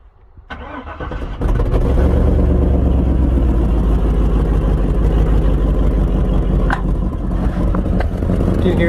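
An LSS10 truck's engine cranks and catches, then settles into a loud, steady idle through a tack-welded 2.5-inch exhaust with no gaskets, leaking, its rough pulsing drone broken by a few sharp ticks.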